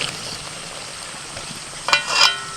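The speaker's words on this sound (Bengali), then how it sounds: "এবার সব শেষে দিয়ে দিচ্ছি ধনে পাতা একটু নাড়াচাড়া করে নামিয়ে দিচ্ছি" Keema ghugni with coriander leaves sizzles in a pan, a soft steady frying hiss, then a few brief louder scraping stirs of the spoon near the end.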